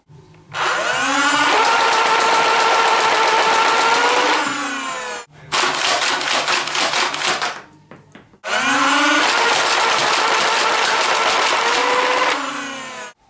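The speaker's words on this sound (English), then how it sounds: "so now I'll show you it firing" A modified Nerf Rapidstrike blaster with Firefly stock fires in loud, sustained bursts, its motors whirring at a high rev while the darts are pushed rapidly through. There are three bursts separated by brief pauses.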